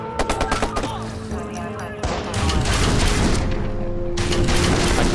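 Assault rifle gunfire in Watch Dogs: a rapid burst of close, sharp shots opens, then a loud sustained barrage of fire and booms rolls on through the rest.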